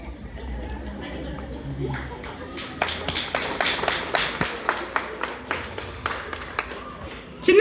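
An audience claps in a crowd setting, starting as scattered claps and building into a rhythmic series of sharp, fairly close claps. Low murmuring voices run underneath, and a louder burst comes at the very end.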